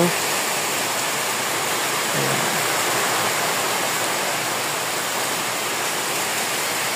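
Steady heavy rain during a typhoon pours down in a dense, continuous hiss with no pauses.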